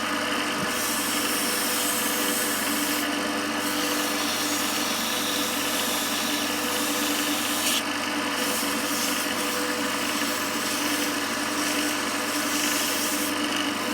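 Steady abrasive rubbing hiss as wood is sanded on a lathe continues for the whole stretch over a constant motor whir, with brief changes in the rasp every few seconds.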